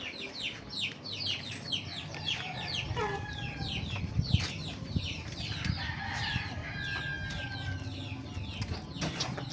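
Several chickens cluck and chatter busily nearby, with a rooster's crow and some wing flapping mixed into the steady barnyard noise around a mother hen.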